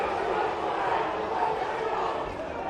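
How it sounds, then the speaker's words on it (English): At a 2023 NTFA Premier Division Reserves grand final football match, a distant crowd murmurs and groans in a steady, muffled wash of voices, moderately loud and continuous. "Crowd not happy with that one"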